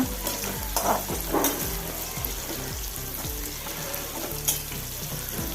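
Sliced bitter gourd for a roasted-coconut curry fries in a pan with a soft, steady sizzle, broken by repeated scraping strokes of a spoon stirring it through the oil.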